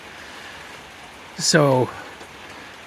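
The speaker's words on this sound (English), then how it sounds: "This rain started, it started trying to rain when I started the second half." Light rain begins to fall while a roof is being finished, a soft continuous hiss with one brief spoken word partway through.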